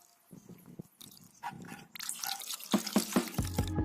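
Fabric softener liquid being poured and mixed into clean water, giving a string of close, irregular wet drips, splashes and sloshing sounds that build toward the end.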